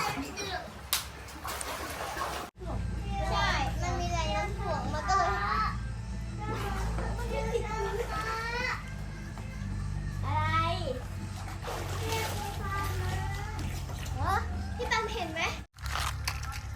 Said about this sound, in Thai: พากันเล่นน้ำอากาศห้อนก็ต้องเด็กน้อยกับน้ำเป็นธรรมดาครับ